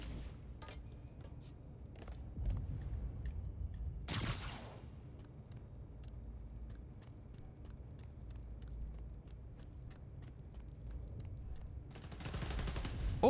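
Game gunfire as enemies shoot at power transformers in Spider-Man: Miles Morales, with scattered shots and bursts throughout and two louder, longer blasts standing out, all under a steady background rumble.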